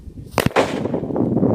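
A large elephant firecracker bursts inside a pressure cooker: a sharp, loud double crack followed by a muffled, rumbling blast and lingering noisy decay, close by.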